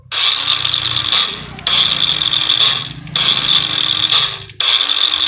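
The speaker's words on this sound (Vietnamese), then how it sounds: "đây mình mượn đỡ để mình test cái con cưa này ha" A borrowed cordless battery-powered saw on a purple six-star battery pack runs through a test in steady loud whining bursts, stopping briefly three times between runs, with no talk over it.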